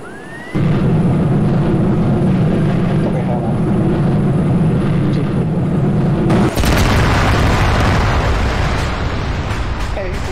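Jet aircraft engines roar steadily while taking off from a runway in a military video game, a loud sustained rumble that surges harsher and broader partway through, with a voice talking over it.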